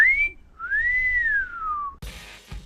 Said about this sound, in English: a man whistles at her